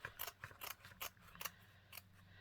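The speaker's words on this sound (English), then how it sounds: "Now I'm going to go back through here and cut it about right there." Scissors snip through material for a snowy journal cover made from clearance craft supplies, a quick series of about six crisp cuts in an irregular rhythm, close and fairly quiet with no talk.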